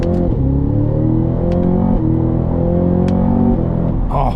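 Cadillac CT5-V Blackwing engine pulling hard under acceleration, a loud, continuous rising roar heard from inside the car with a brief shift near the end.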